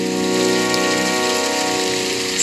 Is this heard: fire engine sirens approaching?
no